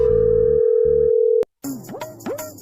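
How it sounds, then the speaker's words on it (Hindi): A phone call tone sounds as a loud, steady electronic beep for over a second, then cuts off sharply, followed by short rising and falling chirp-like tones. "राम भाई फोन लगा था"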